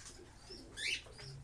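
Racing pigeons cooing at their loft, a couple of soft coos and faint chirps close by over quiet background.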